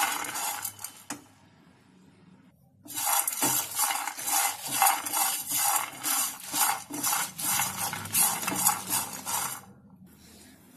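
Coriander and cumin seeds dry roasting in a pan for peanut chutney, stirred continuously with a metal spoon: a brief scrape, a pause, then a long run of rhythmic rattling, scraping strokes, loud and close.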